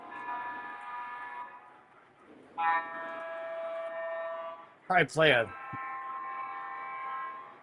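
A sustained multi-tone horn from an EMD F7 diesel locomotive sounds in long, steady blasts, with a voice briefly breaking in between them.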